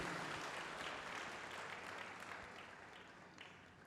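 A congregation at a church sermon claps together in a dense, sustained roar of applause that slowly fades toward the end.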